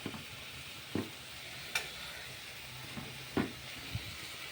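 A spoon stirs a mixture in a hot pan over a faint sizzle, with several distinct scrapes and knocks against the pan spaced irregularly and close by; no talking.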